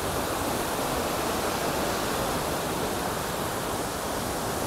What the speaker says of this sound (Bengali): দেখো ওয়াটারফলসটা কত সুন্দর, এখান থেকে জলটা বয়ে গিয়ে নিচে পড়ছে।